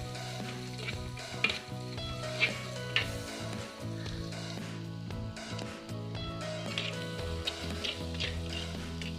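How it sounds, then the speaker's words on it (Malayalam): Chopped onions sizzle and crackle steadily as they sauté in a hot oiled pan for puri bhaji, with occasional stirring scrapes; close, continuous frying without talk. "പിന്നെ സവാള അരിഞ്ഞു വെച്ചത് ഇട്ട് കൊടുക്കുക."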